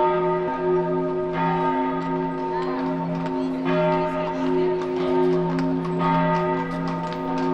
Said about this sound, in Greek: Ηχούν οι καμπάνες.